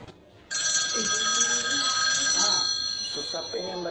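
Telephone ringing on a handset while a call is being placed, a steady loud electronic ring tone starting abruptly and sustained for several seconds, close with a voice speaking briefly underneath.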